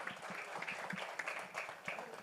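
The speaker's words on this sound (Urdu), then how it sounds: "آئے اس بادشاہ کے لیے زوردار تالیاں بجائیں." A church congregation at a Palm Sunday service applauding, a faint, brief patter of clapping from a distance.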